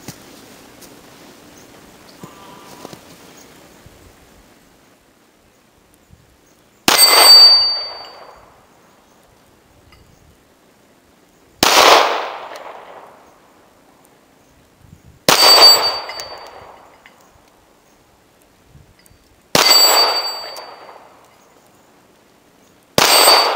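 Ruger LC380 pistol shots strike steel targets outdoors in the cold, each a sharp ringing clang followed by a short decaying tail, five hits spaced several seconds apart after a quiet stretch.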